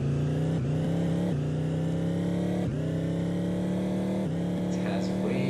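Car engine revving in a Unity vehicle physics demo game, a steady mid-pitched drone with several rev surges and gear-like dips, loud and continuous throughout.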